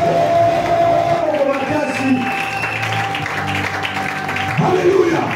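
A church congregation cheers and acclaims loudly during worship, with crowd voices, applause and a sustained shout blending over continuous speech throughout.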